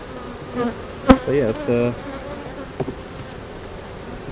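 Honeybees at an open hive buzz close by, their droning whine rising and wavering in a few short bursts as they fly at the camera, with a brief voice underneath.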